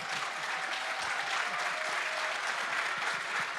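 An audience applauds at a panel discussion on debt transparency and development crises in Africa and the Middle East. The clapping is steady and sustained throughout.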